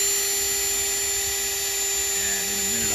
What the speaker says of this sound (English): We just want to drill off the mushroomed end that's on there so it comes off easily.